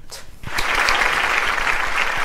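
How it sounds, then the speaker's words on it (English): Applause for the winner of a mock Eurovision 2020 grand final, with a short pause and then a dense, steady burst of clapping close by, sustained to the end. "Yeah, applause."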